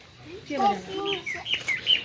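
A bird calls outdoors in the Philippines, giving a quick run of chirps and whistled notes close by, with speech-like sounds mixed in across the short stretch.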